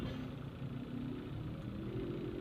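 Car engines idle in heavy rush-hour traffic on Mabini Street on a Thursday evening, a steady low rumble that holds evenly throughout with no talking.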